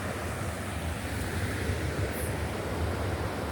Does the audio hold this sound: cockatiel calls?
no